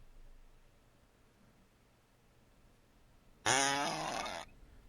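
A short, wet, squeaky fart sound effect blares out from a speaker after a few quiet seconds of room hiss.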